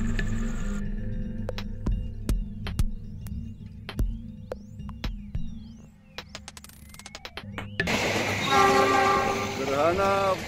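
A train rumbles past in Kaliwungu, Indonesia, at night, with a rhythmic clatter of wheels over rail joints, then a loud horn blares near the end over the steady rolling noise.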